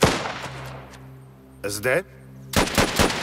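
Gunfire in the video game Last Train Home: a burst of close, loud rapid shots, then a pause with a short voice line, then another sharp burst of shots.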